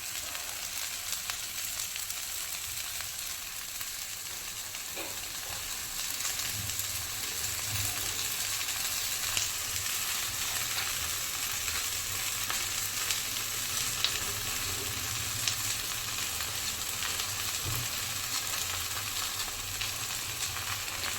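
Drumstick leaves fry in a pan with a continuous, even sizzle and crackle, close and steady throughout with faint stirring and no talking.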